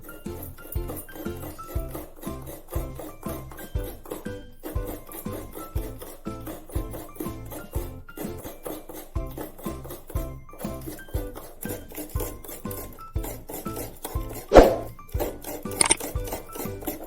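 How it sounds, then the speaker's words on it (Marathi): Coconut being grated on a vili, a traditional Indian blade: a steady, even rasping rhythm of short scraping strokes, close and continuous, with a couple of sharper clinks near the end. "आणि हा नारळ आपल्याला आता किसून घ्यायचा आहे विळीवर"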